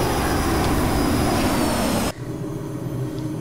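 The jet engine of a Cockspur C510 Mustang in Microsoft Flight Simulator roars loud and steady, then drops abruptly as the throttle is pulled back during a stall test, leaving a quieter, lower hum.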